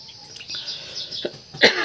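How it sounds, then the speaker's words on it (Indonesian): A couple of short, dry coughs close by, the second one louder, with quiet room noise in between and no talking. "sedikit batuk"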